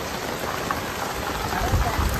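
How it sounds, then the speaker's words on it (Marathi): Torrential rain hammers steadily outdoors during a sudden storm, a thick continuous downpour drumming on surfaces close by, with a few heavier splashes near the end. "तुफान तुफान पाऊस."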